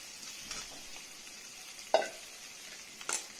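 Masala spices fry in oil for a pigeon curry, a low, quiet sizzle with a couple of sharp stirring clacks, no voices.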